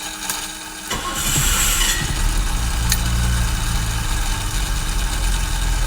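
A 1973 BMW 3.0CS engine cranks briefly on a cold start, catches and fires up, then settles into a steady, rumbling idle with a faint buzzing tone on top.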